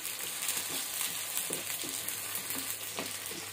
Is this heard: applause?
no